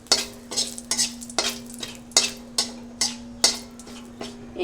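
A spatula scrapes rhythmically in a pan where a bay leaf fries in a little hot oil for a mixed vegetable curry, regular close strokes over a steady low sizzle.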